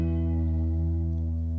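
An electric guitar's top string rings out as one sustained note, bathed in reverb and a touch of delay, with steady harmonics holding loud and even, alone with no voice.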